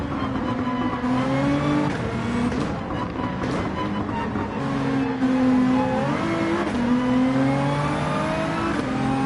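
Race car engine in Gran Turismo 7, loud and close, revving and shifting through gears with steady harmonic tones rising and falling, continuous throughout with no talking.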